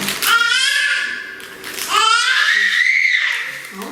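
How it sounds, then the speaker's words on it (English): A small boy screams in two long, loud, wavering wails close by, separated by a brief pause, with faint background sounds beneath. "Little man is screaming"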